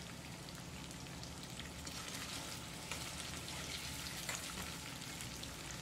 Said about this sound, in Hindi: पनीर को सिर्फ 40 से 50 सेकेंड तक ही मीडियम फ्लेम पर फ्राई करना है।